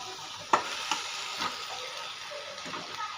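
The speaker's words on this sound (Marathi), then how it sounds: "आता मसाल्यामध्ये आपण व्यवस्थित मिक्स करून घेऊया" Pasta being stirred into sizzling spice masala with coriander in a pan over medium heat, a steady close frying hiss with a few scraping clicks from the spoon.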